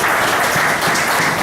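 A church congregation claps together for the Lord during a Hindi sermon, a dense burst of applause that stays loud and steady throughout the short moment.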